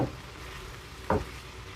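Garlic hitting a hot pan and frying, a soft steady sizzle with a brief sharp burst of crackle partway through, close and alone without talk.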